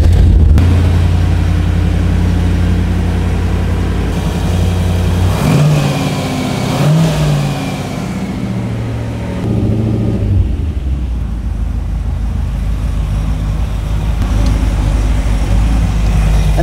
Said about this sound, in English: So we're going to crank up the car and see what it gives us.